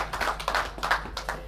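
Scattered hand claps from a pool tournament audience during a semi-finalist's introduction, sparse and moderately distant, a few uneven claps rather than a full ovation.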